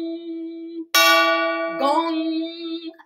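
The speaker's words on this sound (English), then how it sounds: "Sounds like a gong, doesn't it?" A struck metal gong rings out in a loud crash with dense harmonics, decaying into a sustained shimmering tone; a steady lower ringing tone is present before and after the strike.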